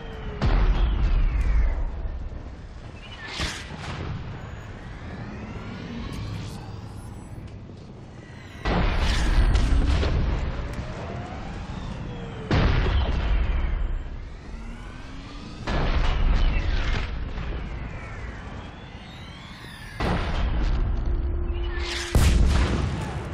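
Enemy gunfire and explosions in the Mass Effect 3 battle on Vessia, with Thresher Maws nearby: heavy blasts and bursts of shots come in loud, repeated waves, each a few seconds apart, with a voice calling out among them.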